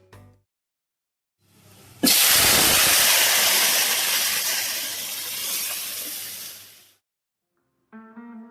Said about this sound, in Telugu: గోంగూర చారుని తాలింపులో పోయింది